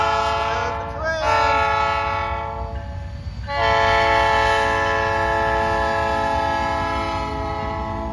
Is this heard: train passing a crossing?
yes